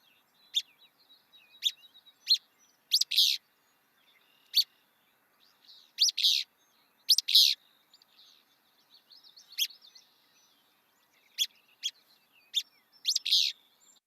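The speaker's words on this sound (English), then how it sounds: "And this is the willow flycatcher." Willow flycatcher song: short, sharp high chirped phrases repeated at irregular intervals of a second or two, clear and fairly close over a quiet background.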